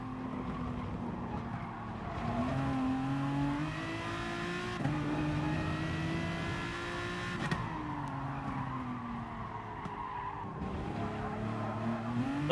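Aston Martin race car driven in Gran Turismo Sport, its engine droning and shifting pitch steadily as it accelerates and brakes through corners, with tire squeal and skidding layered over a continuous close game soundtrack.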